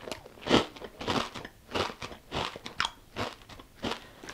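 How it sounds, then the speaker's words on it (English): Loud, close crunching of a crisp sour cream and onion keto puff snack, a series of sharp bites and chews in an irregular rhythm, with no talking. "you can hear the crunch"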